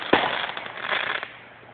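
Fireworks go off nearby in rapid succession, a sharp bang followed by dense crackling pops that fade out over under two seconds.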